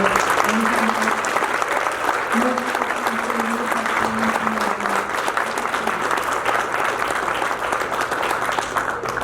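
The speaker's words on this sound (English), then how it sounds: "let's have one more big round of applause" A large audience at a youth awards ceremony applauds loudly and continuously, a dense wash of clapping that holds steady throughout, with a faint voice underneath.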